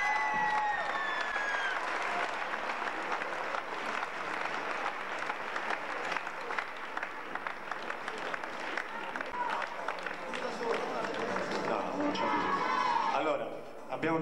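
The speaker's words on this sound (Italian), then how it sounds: "Per questo un applauso da parte nostra a loro." An audience at a 1996 gathering breaks into sustained applause, a dense wash of clapping with scattered cheers and voices mixed in, fading slightly near the end.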